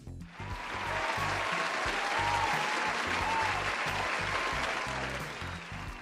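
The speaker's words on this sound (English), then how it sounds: "Cheering sound." A crowd cheering and clapping sound effect swells up and holds steady for several seconds, fairly loud and dense, then tapers slightly at the end.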